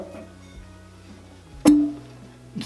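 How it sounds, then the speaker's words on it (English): A single sharp pop of air from a vacuum wine stopper sounds near the middle, followed by a short ringing tone, then a faint click at the end over a quiet hum. "Did you hear the pop of air?"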